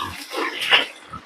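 Three-month-old fattener pigs on a farm grunt and squeal in a quick burst, several close oinks and one sharper squeal packed into a moment.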